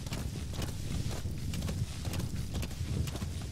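A horse's hooves clip-clop at a steady walking rhythm in the video game Metal Gear Solid 5, a run of evenly spaced hoofbeats with no voices over them.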